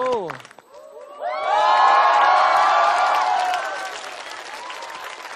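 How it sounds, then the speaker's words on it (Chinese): An audience on a TV music show applauds and cheers to welcome a singer: a loud swell of clapping with whoops that peaks, then eases into lighter applause, following a brief burst of sound at the start. "用热烈的掌声欢迎"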